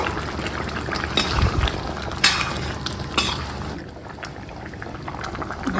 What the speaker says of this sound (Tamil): இப்போ புளி ஊற்றுறேன்